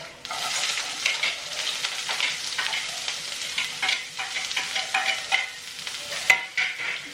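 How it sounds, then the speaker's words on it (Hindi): Mustard seeds, green chilies and onion fry in a pan, a steady sizzle broken by crackles and the clatter of stirring, close and fairly loud with no talking. "तो राई डाल दी मैंने इसमें, हरी मिर्ची, प्याज"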